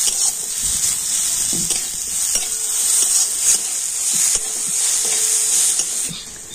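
Crushed garlic and onion frying lightly in a pan, a steady close sizzle and hiss with occasional stirring scrapes and knocks of the utensil, no voices.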